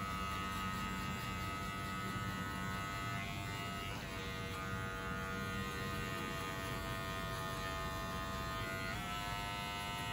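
Electric hair clippers buzz steadily and close while cutting a mid fade haircut, a continuous hum holding level throughout.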